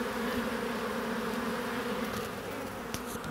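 A honeybee swarm drones in a steady, dense buzz as it is moved from a pot into a hive, the hum sustained and close with no voices over it.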